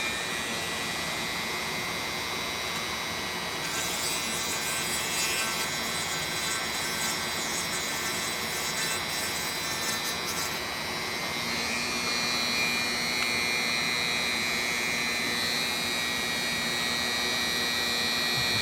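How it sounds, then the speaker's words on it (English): A Dremel rotary tool on its lowest speed cuts into wood on an RC airplane tail part, giving a steady, continuous high whine with a grinding edge that stays level, with no talking. "Lowest setting you can get on your Dremel if you do it this way."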